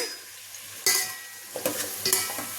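Tomato and carrot pieces stirred in a pan for a potato-carrot veg biryani: a soft sizzle broken by a few sharp metallic scrapes and clinks of a spoon against the pan, close up.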